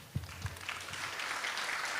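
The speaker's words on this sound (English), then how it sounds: "can you give a big round of applause to thank Mahatma Prabhu for being here with us this evening" An audience at a Sunday feast gathering begins clapping, a few early claps swelling into steady, moderately soft applause that holds to the end.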